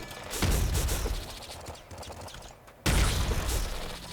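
Explosions in the Nuclear Throne video game, a roaring burst of blasts and crackling gunfire that fades, then a fresh loud boom hits abruptly near the end.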